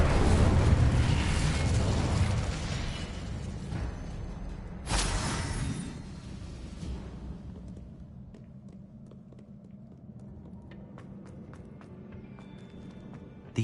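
Incendio fire spell cast in the Hogwarts Legacy video game, a loud fiery rushing burst that swells at the start, flares sharply again midway, then trails off into a low rumbling tail.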